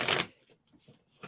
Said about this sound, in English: I don't know why I'm shuffling these cards